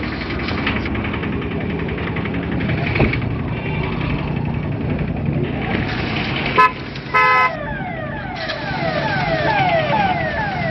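Car horn honking on a busy road amid engine and traffic noise, with a couple of short toots followed by a longer, tonal horn blast near the end.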